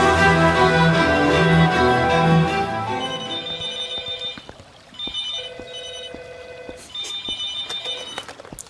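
Telephone bell ringing in short repeated bursts with gaps between them, loud and close, following a stretch of music that fades out at the start.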